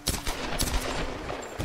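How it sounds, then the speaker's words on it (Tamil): Gunfire from the Tomb Raider video game landing a headshot: a quick burst of several sharp shots in close succession, loud and near, with no talking. "ஹெட்ஷாட் தான் வச்சுட்டோன்னு நினைக்கிறேன் கரெக்டாக"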